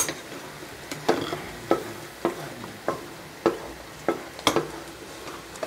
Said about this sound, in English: So you fry a little at a time.